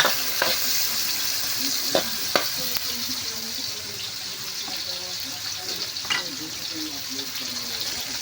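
Garlic and onion sizzle while frying for a moringa pod dish, with a steady crackling hiss and a few sharp clinks of stirring in the pan.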